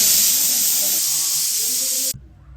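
Pressure cooker on a gas stove cooking chicken biryani, a loud, steady hissing jet of steam that cuts off abruptly near the end, leaving faint low background noise.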